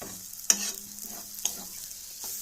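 Radish ghonto is stirred in a pan, a steady soft sizzle of frying under two sharp scraping knocks of the spoon against the pan, with no voices.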